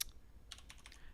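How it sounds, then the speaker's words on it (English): Quiet clicking of a computer keyboard as a web address is typed, a quick run of separate key taps close by with no talk. "I'll type in that"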